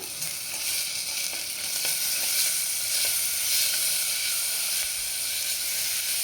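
Garlic paste sizzling steadily in a hot pan while making ghee rice, a continuous bright frying hiss with faint stirring, close and alone without talk.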